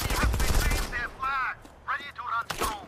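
Compakt-665 gun fire in the mobile shooter Modern Combat 5: a loud burst of rapid shots up front, then a few more separated bursts, with a voice audible between them.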